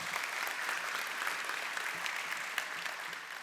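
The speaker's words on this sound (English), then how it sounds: "So a round of applause for him." At the Paycom Jim Thorpe Award ceremony, an audience breaks into applause, a full, even stream of many hands clapping that carries on steadily with a few sharper claps poking through.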